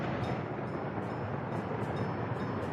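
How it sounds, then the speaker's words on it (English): Train moving in the city-building game Workers & Resources: Soviet Republic, a quiet, steady rolling rumble of rail cars with a faint hiss and no speech. "Start the train."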